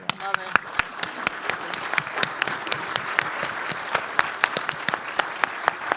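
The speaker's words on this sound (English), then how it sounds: "let's do one more round of applause for our amazing panelists" An audience claps for a panel at the close of a discussion on psychological safety in Canada's energy transition, the sharp scattered claps of a small crowd running evenly throughout.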